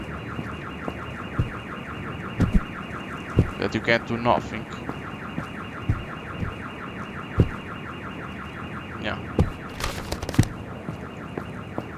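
A car alarm in a horror video game wails on continuously in a rapid repeating pattern, with brief voices and scattered knocks and thumps breaking in over it.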